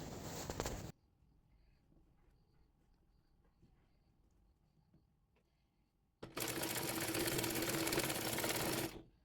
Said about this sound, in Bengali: এবার পাইপিনের কাপড়টি সোজা করে মুড়িয়ে চিকন করে পাইপিন সেলাই করে নিচ্ছি।